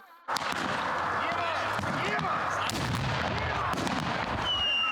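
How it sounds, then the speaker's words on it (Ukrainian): Loud, chaotic din of a simulated battlefield training ground with smoke grenades and burning tires: sharp gunshot cracks and booming blasts pile up continuously, with voices shouting in the mix. "Цей відтинок максимально реалістично відтворює поле бою, димові шашки, палахкотіння шин, звуки пострілів і вибухів"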